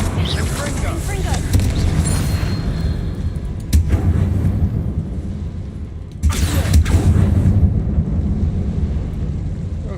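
A Confringo fire spell in Hogwarts Legacy lands as a deep rumbling blast, with two or three sharp bursts over a continuous roaring background and a voice calling out the spell.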